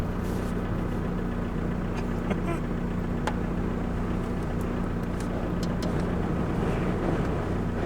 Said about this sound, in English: here, you can see how windy it is